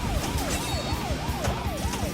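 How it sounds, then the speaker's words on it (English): A police siren effect from a Last Action Hero pinball machine wails in steady rising-and-falling cycles, about five sweeps in two seconds, loud and continuous over a dense electronic background. "So you've got that police siren thing doing its thing"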